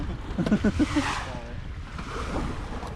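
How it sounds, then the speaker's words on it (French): Wind rushes steadily over Lake Geneva while small waves running against the wind slap nearby; a few short vocal sounds come early, then voices fade under the gusts. "les vagues elles sont contraires au vent"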